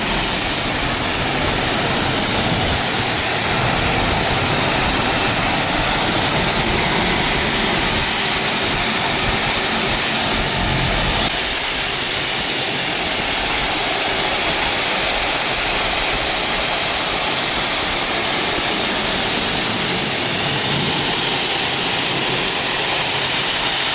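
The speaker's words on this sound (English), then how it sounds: "I'm going to turn on the water, spray it, actually give it a little wash" A loud, steady rush of water sprays from a hose onto a BMW E46 during a car wash, continuous and close, with a broad hiss that carries on unbroken.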